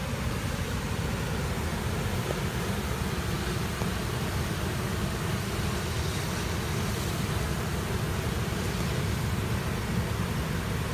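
Steady broadband roar of rain and rushing floodwater pouring along Avenida Tupi beside the Rio Ligeiro in Pato Branco, a continuous loud wash with no pauses and no voices.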